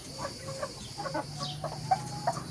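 Chickens cluck softly as they peck at specially made feed, a close cluster of short irregular calls over a quiet background.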